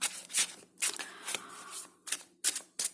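Tarot cards are shuffled in several quick riffling bursts, close and crisp, separated by brief pauses.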